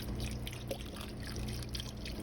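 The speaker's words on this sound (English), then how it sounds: "just put a cup of water in" A cup of water poured into a pot of homemade dog food stew made with broth, a soft continuous trickle and splash at moderate volume, heard alone without talk.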